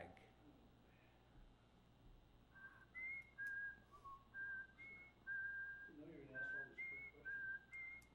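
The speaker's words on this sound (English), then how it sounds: "who's whistling? He's whistling." A person whistles a short, wandering tune of bright sustained notes, close by during a planning commission meeting, while faint talk and background noise run underneath.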